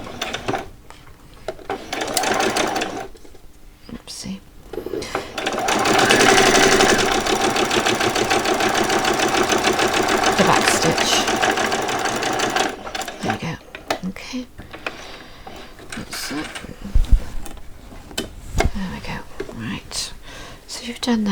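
A home sewing machine stitches Christmas pyjamas in a steady, sustained whirring run lasting several seconds, with quieter mechanical clicks and handling noises around it and speech before and after.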